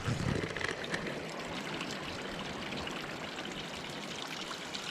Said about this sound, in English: And suddenly I found this little kind of fountain.